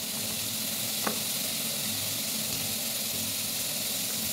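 Two tomatoes frying in a pan for chutney, a steady, close sizzle and hiss with a brief stir near the start, no voices.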